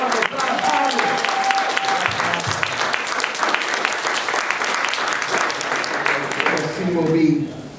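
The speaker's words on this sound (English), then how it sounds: "Let's give him a big round of applause." A big round of applause from a conference audience welcoming a congressman, dense, loud clapping that runs steadily for several seconds before tapering off at the end.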